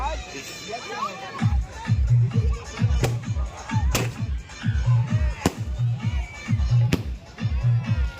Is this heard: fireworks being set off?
yes